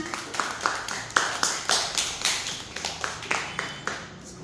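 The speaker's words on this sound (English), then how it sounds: "Clap hands, everyone." A group of people in a classroom shape lesson clap their hands in a steady run of about a dozen claps, each sharp and even, with some chatter underneath.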